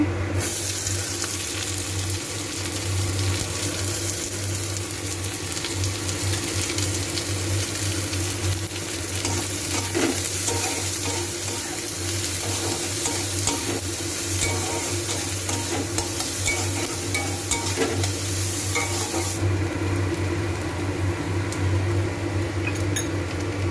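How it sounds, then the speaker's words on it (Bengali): Crushed garlic fries in hot oil for a stingray curry, a constant close sizzling hiss with faint stirring clicks and a steady low hum underneath, no talk, going on throughout. "এবারে রসুনটা দেব আমি থেতো করা।"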